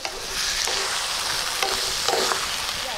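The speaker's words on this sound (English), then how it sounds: "It's time for us to add our palak puree. And mix it all in." Spinach puree is stirred into potato curry frying in a pan, with a steady loud sizzle and occasional scraping stir sounds up close, continuous throughout.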